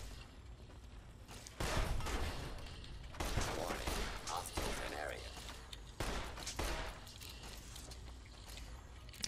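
A turret in a modded Fallout video game fires rapid bursts of gunfire in several loud, broad volleys, with quieter game noise between them.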